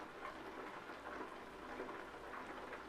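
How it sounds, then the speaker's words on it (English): Night rain in the trucking game Euro Truck Simulator 2, a steady soft wash of rainfall with a low rumbling undertone, faint and unbroken. "Oh, it's raining now as well as it being night time."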